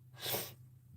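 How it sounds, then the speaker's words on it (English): A single short, close sneeze, a sharp burst of air lasting about half a second in an otherwise quiet room. "Oh, bless you."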